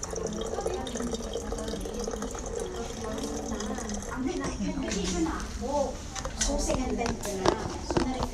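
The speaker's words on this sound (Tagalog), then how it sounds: "may free sila refill dito ng tubig." A public water refill station in Singapore runs as water pours steadily into a container, with people talking nearby over the continuous flow.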